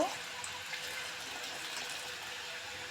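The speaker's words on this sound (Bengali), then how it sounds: "ভালো করে নাড়াচাড়া করে এবার জল দিয়ে দিব।" Water poured into a pot of soaked, swollen haleem grains, a steady broadband gush running unbroken and fairly close throughout, with no voices.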